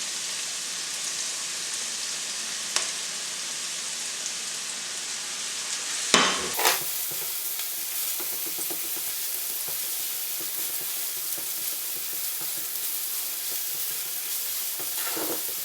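Mushrooms sizzling in a salmon pasta sauce on the stove, a continuous crackling fry with a short burst of stirring and scraping midway, close and steady.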